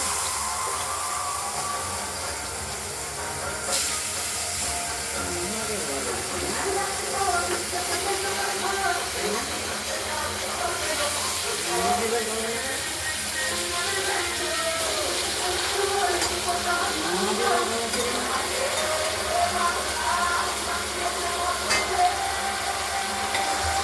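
Potatoes frying in a pan for a katla fish curry, a continuous sizzle and hiss with occasional stirring scrapes, steady and close throughout, with a voice speaking briefly over it.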